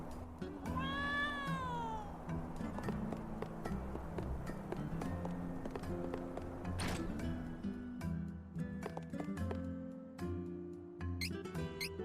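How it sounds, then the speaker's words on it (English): A cartoonish cat meows in the fantasy role-playing game Trials of Mana, a few rising, wavering cries near the start over a steady bed of game music and ambient effects. "Ah, there's a cat."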